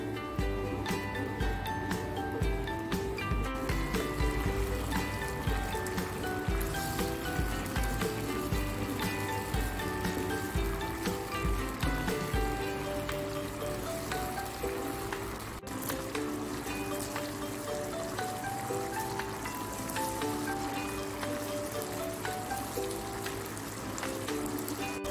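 Shrimp dish in a pan with tomato sauce, oyster sauce and salty soy sauce being stirred, giving a continuous wet sizzling and clicking texture with scattered utensil taps against the pan and background music throughout.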